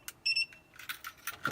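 A CANscan KP100 remote frequency tester gives short electronic beeps, a quick high double tone followed by a few fainter chirps, close and clear in a quiet room.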